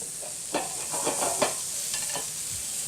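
Red onions sauté in rib-eye pan drippings over medium-high heat, giving a steady soft sizzle close by with a few scraping stirs of a utensil in the pan.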